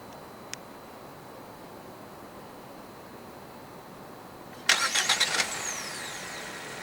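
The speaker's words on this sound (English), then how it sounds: "Standard with the EMZOOM in Malaysia is a remote engine start system." A 2024 GAC GS3 Emzoom 1.5 turbo starts up by remote start: a faint chirp first, then after a long quiet pause a quick burst of cranking pulses that settles into a steady idle hum.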